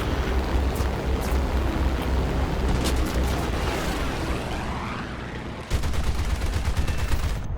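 Heavy machine guns on an H8K3 flying boat in War Thunder fire in loud, sustained bursts, a dense rattling roar over droning aircraft engines, with a short pause before another sharp burst.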